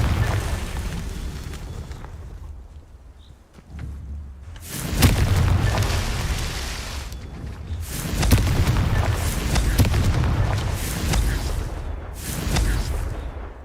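Repeated booming fire-spell explosions in the wizarding video game Hogwarts Legacy, several loud bursts in a row with rumbling tails between quieter gaps.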